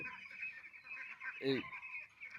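Young ducks on a small duck farm: a single short honking call stands out against a faint, steady background, quiet and somewhat distant, with no talk.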